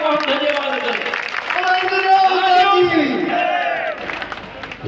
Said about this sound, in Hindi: तालियों से इंद्र देवता को हम धन्यवाद करते हैं।